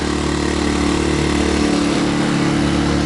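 A Sportsman GEN1000i portable inverter generator runs on its first start, a steady loud engine hum that stays even and unbroken close by, with no voices.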